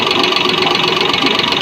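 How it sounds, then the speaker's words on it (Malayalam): A Maruti 800 engine idles loudly close up with a steady, rough growling hum and a faint rapid knock running through it, with no talk. "ഒരു മുരളിച്ച സൗണ്ട് കേൾക്കുന്നുണ്ട്."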